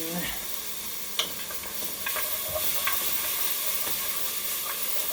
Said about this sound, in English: You just want to cook a little bit of that raw off that onion